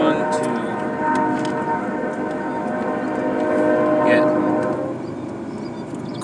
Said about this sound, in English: there's a train going in the background, of course, like always.